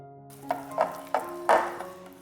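Microwave-warmed vegetable oil being mixed into flour for a lemon castella cake batter produces a steady series of five soft, rhythmic taps of a utensil against the bowl, close and fairly quiet, with no speech.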